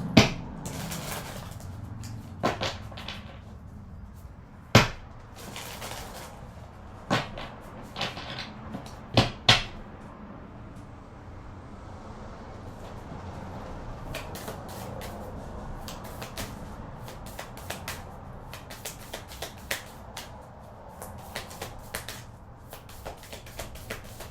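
Tarot cards are shuffled and handled in short bursts, with sharp taps and snaps of the deck early on, then softer riffling and sliding over a quiet room background, no talking.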